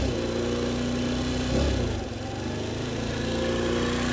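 A Baotian Comfort scooter engine with a carburettor problem runs steadily at high idle, a close, continuous buzzing drone that briefly dips and surges around the middle before settling back to an even, constant note.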